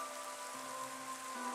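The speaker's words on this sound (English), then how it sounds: "Of course, it is raining." Steady rain falls in a video game, an even, continuous hiss of drops on surfaces with a faint tonal hum beneath, with no voices.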